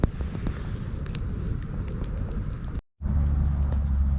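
A campfire burns with a mess kit of ramen noodles and vegetables set in it, giving scattered close crackles and pops over a rushing flame bed. The sound cuts out briefly near the end, then resumes louder.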